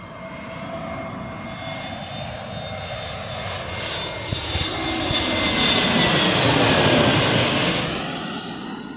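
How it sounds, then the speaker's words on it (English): An Airbus A320 airliner comes in to land, its jet engine roar building steadily from moderate to loud as it passes close overhead, then easing slightly, with no talk. "I think it's an Airbus A320's type aircraft"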